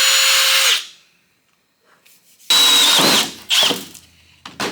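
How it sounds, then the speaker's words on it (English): A power drill with a step drill bit whines loudly at close range, running in several short bursts separated by brief pauses, with a high squeal as it bites. "the drill bit showed up. It's got 1, 2, and 3 steps on it"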